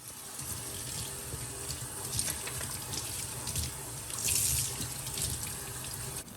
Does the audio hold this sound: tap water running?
yes